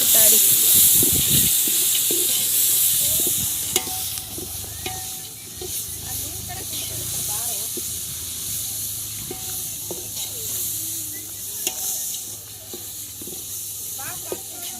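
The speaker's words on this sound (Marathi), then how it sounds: "अतिशय चांगल्या प्रकारे हलवून घेत आहे" Upma with peanuts and dal being stirred in a pot over a wood-fired stove: repeated scraping strokes and a soft sizzle run throughout, with a faint voice in the background.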